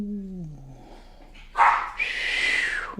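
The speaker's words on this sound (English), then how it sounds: "And there's my dogs in the background going at it." Dogs barking and yelping somewhat off in the background of a kitchen, with a couple of loud, harsh bursts in the latter half after a quieter stretch holding a low hum.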